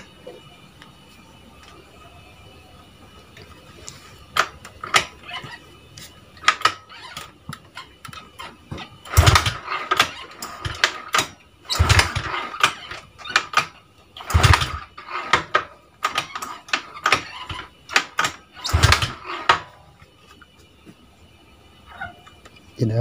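A Honda Vario 125 scooter being kicked over repeatedly without starting, with a series of sharp mechanical clunks and rattling strokes arriving in irregular bursts, close by against a quiet background.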